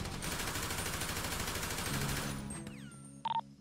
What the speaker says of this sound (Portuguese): Eu vou dar um tiro.